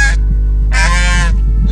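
Two loud, close goose honks, the first short and the second longer and harsh, over a steady low rumble.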